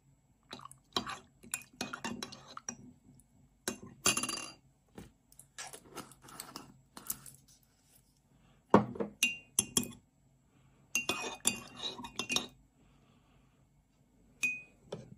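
A spoon stirring apple cider vinegar and ginger drink in a glass: irregular bright clinks and taps against the glass with small liquid sloshes, close and fairly quiet, in short bursts separated by pauses.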